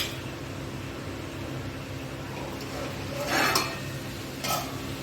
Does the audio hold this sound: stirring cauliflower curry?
yes